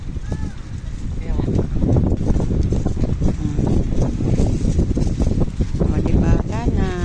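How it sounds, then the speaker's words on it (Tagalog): Strong wind buffets the microphone in an open park where kites fly and soccer practice goes on, a steady roar and rumble throughout with people talking over it. "Pero ang lakas pa rin ng hangin"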